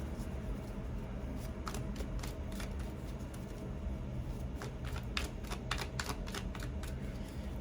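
A deck of playing cards is shuffled over and over, giving bursts of crisp riffling flutter against a steady background hum, with no talking.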